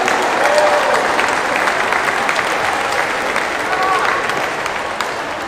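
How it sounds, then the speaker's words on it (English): Crowd applauding at a Hawaiian festival on Maui, a steady dense wash of clapping from many hands that holds loud for several seconds, with faint voices mixed in. "Clap again, people."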